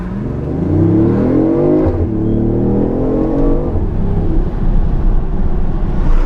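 A 2015 BMW i8 Pure Impulse accelerates with its windows lowered, a steady loud engine drone rising in pitch through the gears with wind rush underneath, continuous for several seconds.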